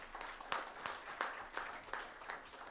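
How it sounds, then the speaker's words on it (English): An audience applauding to welcome a speaker at a Kerala Management Association talk, a faint, somewhat distant patter of clapping with a few sharper claps standing out. "with a big round of applause"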